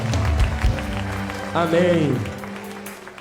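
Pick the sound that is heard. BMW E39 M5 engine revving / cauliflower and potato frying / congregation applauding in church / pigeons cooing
congregation applauding in church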